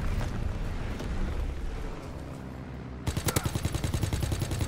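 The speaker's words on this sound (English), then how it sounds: "Anti-aircraft bursts commenced." Anti-aircraft and mortar fire in a WWII video game, a rumbling barrage of distant blasts giving way to a rapid, sharp volley of gunshots in the final seconds.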